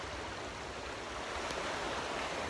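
A creek flows and gurgles in hot summer weather, a soft, steady broadband rush of water heard alone at low level with no voices.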